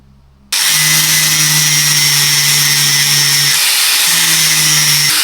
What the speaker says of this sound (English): grind the rest of it off the back.